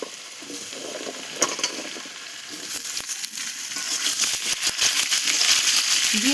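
Potatoes and cut moringa drumsticks fry in a pan, a continuous close sizzle with occasional stirring clinks that builds louder and denser toward the end.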